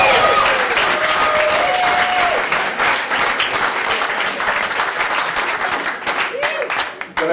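An audience at Gotham Comedy Club applauds and cheers for a comedian taking the stage, steady loud clapping from a packed room with whoops throughout, tapering slightly toward the end.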